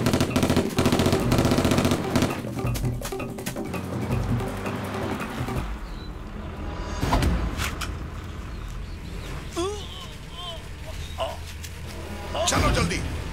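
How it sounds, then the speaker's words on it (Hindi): Dense machine-gun bursts from an action scene in a Hindi-dubbed South Indian film, loud and continuous at first, then thinning into scattered shots amid voices, footsteps and movement, with a fresh burst near the end. "गोली मार रहा।"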